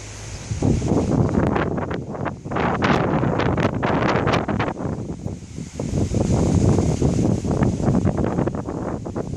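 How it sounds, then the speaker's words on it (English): Strong wind during a thunderstorm roars and buffets the microphone in loud, surging gusts that rise and fall over several seconds, with brief lulls between blasts. "It's windy."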